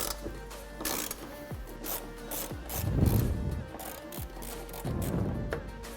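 A ratchet wrench clicks in short runs while a T45 Torx bolt on the driver's side tailgate cable of a 2009-2015 Dodge Ram is loosened, with metallic rubbing and gear noise close by.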